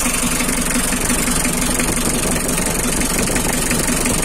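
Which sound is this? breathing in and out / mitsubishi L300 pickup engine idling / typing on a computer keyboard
mitsubishi L300 pickup engine idling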